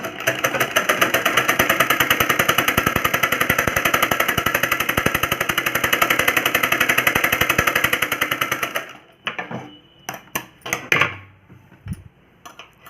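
A sewing machine runs a finishing stitch along a blouse seam with a fast, steady mechanical chatter for about nine seconds, then stops, leaving a few scattered clicks and handling noises.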